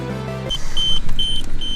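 A tyre pressure monitoring system alarm, set off by removing one of its sensors, gives repeated high-pitched electronic beeps in an even rhythm over a low background hum after a short lead-in.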